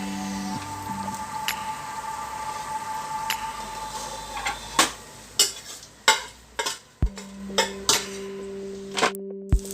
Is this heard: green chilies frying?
yes